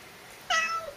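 A single drawn-out cat meow, clear and fairly close, with a rising then falling tone. It sounds against a quiet background in a workshop where a Mk3 Cortina classic car is being restored.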